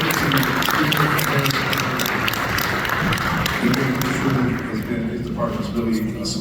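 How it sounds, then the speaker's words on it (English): Audience applause at a chamber of commerce breakfast event: a dense, loud patter of many hands clapping fills the room throughout, while voices murmur underneath and a speaker's voice emerges near the end. "Let's just give him a round of applause for being here."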